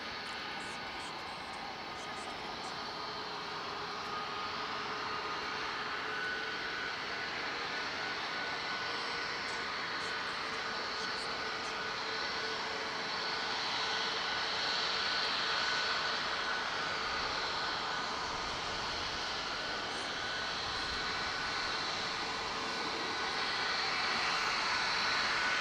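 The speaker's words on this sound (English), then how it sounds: "Jay, it's meant to be from Abu Dhabi, a national airlines" A national airliner from Abu Dhabi passing at Dublin Airport, its engine roar a steady broad rumble that swells slowly as it draws nearer, with no talk over it.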